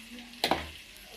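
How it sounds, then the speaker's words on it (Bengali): Ground cumin, salt and other spices sizzle as they are sautéed in oil in a pan, with a soft steady hiss and a brief louder burst of frying midway through the short stretch. "এটাকে একটু কষিয়ে নেব"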